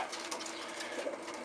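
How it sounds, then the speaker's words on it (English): Soft, low cooing from Meuleman-based racing pigeons in a loft, a faint steady murmur under broadband background noise with no talk. "it's one of the Meuleman based birds"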